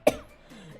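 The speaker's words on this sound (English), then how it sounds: "I have a bad cough." A single sharp cough from a person with a bad cough, close and brief, followed by faint breathy sound.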